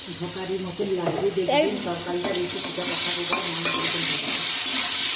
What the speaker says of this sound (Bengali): এখানে আলুটা এখানে কষানো হচ্ছে, দেখতে পাচ্ছেন